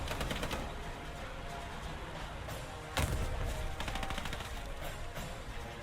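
Sustained gunfire fills a Hell Let Loose battle, with rapid automatic bursts and heavy thumps and booms from nearby weapons, loud and continuous, with no talking.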